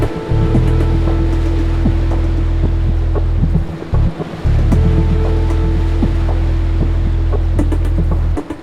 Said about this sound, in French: Les vagues sont générées par un batteur hydraulique de 5 mètres par 5 mètres.